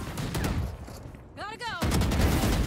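Rapid gunfire bursts in the Valorant video game, loud clattering volleys before and after a brief pause where a voice speaks.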